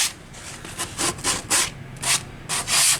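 Wood being hand-sanded with 100 grit sandpaper for a mini arcade cabinet build: close, rhythmic scratchy strokes in uneven bursts with brief pauses between passes, no voices.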